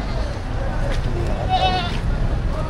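Goats bleat at a livestock auction market in Padre Garcia, Batangas, with one clear wavering bleat rising midway over a steady crowd murmur and nearby talk.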